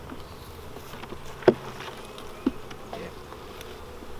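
A small honey bee colony of about two or three frames hums in a steady buzz throughout an April hive inspection, with two brief knocks and a short spoken word.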